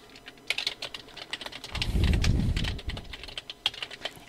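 Light, crisp clicks of typing on a computer keyboard while entering text in Photoshop, heard as scattered quick taps with a brief soft rumble in the middle, fairly close and quiet, with no talking.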